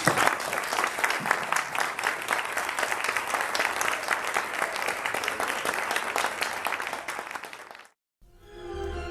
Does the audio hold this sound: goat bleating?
no